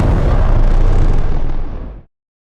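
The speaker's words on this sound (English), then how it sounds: "another explosion." A loud, close explosion roars with a dense, rumbling burst that holds for about two seconds and then cuts off abruptly into silence.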